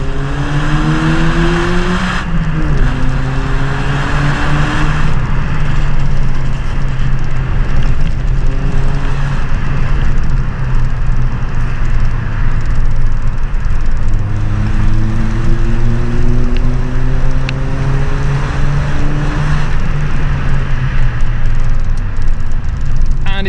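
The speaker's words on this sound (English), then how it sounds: "we can sort of hear the induction, because I do love the induction sound" A car engine revs and pulls through the gears, its intake note rising in pitch with each acceleration, loud and close, with brief shifts between climbs.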